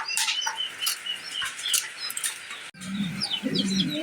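Pigeons kept for sale, fancy exhibition breeds, flap their wings in a loft during heavy rain, with quick fluttering bursts among scattered chirps and cooing. Steady background noise runs throughout, and a low rumble follows a sudden cut partway through.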